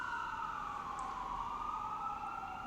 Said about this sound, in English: Now I got the sirens over here at the Mechanics Institute.